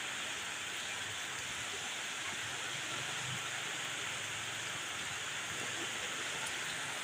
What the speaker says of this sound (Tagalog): Tumatagas na yung ulan.